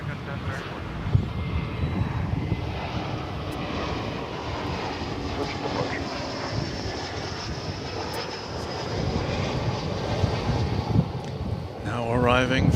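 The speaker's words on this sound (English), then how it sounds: "Now arriving from San Diego, this Airbus A321, American flight 1055." An American Airlines Airbus A321 arrives at DFW airport with a sustained jet engine roar and rushing wind that swells toward the end, while a radio voice talks over it.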